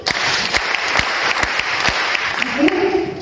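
A church congregation applauds with a steady patter of many hands clapping, fairly close and continuous, while a voice speaks over it near the end.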